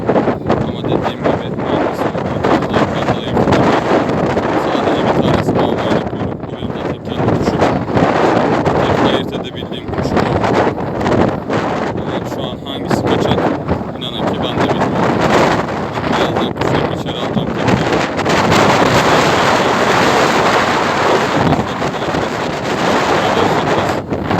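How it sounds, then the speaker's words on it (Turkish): Loud gusty wind roars against the microphone on a rooftop in Mardin, swelling and dropping in strong bursts for a long stretch, with a voice occasionally faint beneath it. "Hava da çok rüzgarlı bugün."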